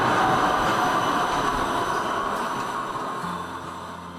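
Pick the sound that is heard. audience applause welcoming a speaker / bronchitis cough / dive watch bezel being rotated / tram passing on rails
tram passing on rails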